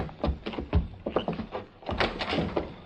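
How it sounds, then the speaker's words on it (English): Door opening as a sound effect in a 1944 Lone Ranger radio drama: a short run of wooden thunks and clunks, then a louder knock-like thud near the end, close and fairly quiet. "Open the door."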